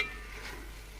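A spoon stirring a chicken and peas curry just salted, a short, faint scraping and gentle sizzle heard close by with no talk.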